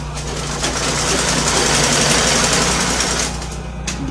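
A sewing machine stitches the seam of a straight long skirt, giving a steady, loud mechanical whir that runs unbroken for about four seconds with no voices over it.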